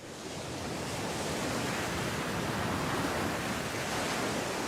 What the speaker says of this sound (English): Transitioning to ocean sounds.